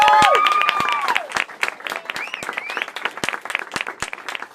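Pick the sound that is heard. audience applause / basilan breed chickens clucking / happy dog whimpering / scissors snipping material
audience applause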